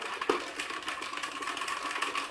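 A homemade mole repeller, a wire-bound device on a skewer stick, vibrating in the airflow of an electric fan, giving a steady close buzzing rattle throughout with no talking.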